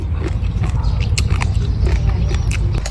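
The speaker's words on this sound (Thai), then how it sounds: "มันจะได้ยินเสียงประจำเหมือนกินกระดูกอ่อนเลย กรอบมาก" Crunchy bites of a cannonball jellyfish salad, firm like cartilage, come through as repeated close crisp crackles and snaps over a dense low rumble of background noise.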